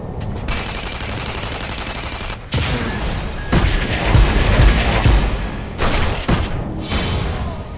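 Bursts of shotgun fire in the video game Tribes: Ascend, with loud repeated blasts and explosive thuds packed together across a busy battle, no talking over them.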